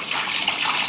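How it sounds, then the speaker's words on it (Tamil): Water poured from a jug into the tank of a budget air cooler, a steady close splashing rush that runs throughout without pause or any talk. "ஸோ இப்போ இந்த வாட்டர் வந்து இதில் ஊற்றிடலாம்."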